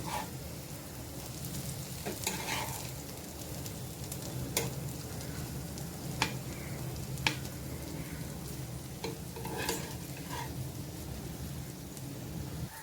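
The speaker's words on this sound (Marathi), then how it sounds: "सर्व एक एक भेंडी आपल्याला पलटी करून घ्यायचे" Stuffed okra fries in oil in a pan with a steady close sizzle, while sharp clicks and scrapes come through as the pieces are turned one by one.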